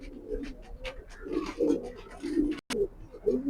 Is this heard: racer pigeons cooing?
yes